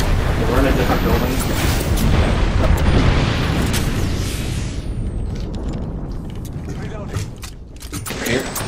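A grenade bursts in Apex Legends as a loud, rumbling boom that rolls and fades over several seconds, with gunfire clatter and a voice talking over it.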